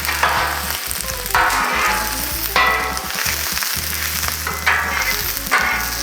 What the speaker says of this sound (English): So we'll just move those onions and their sulfur compounds around.